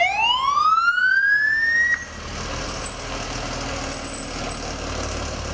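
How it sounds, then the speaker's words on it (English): A fire truck siren wails close and loud, sweeping upward in a long rising tone, then cuts off and gives way to a low rumble of engine and traffic with a faint high whine lingering. "He rode on a big red fire truck"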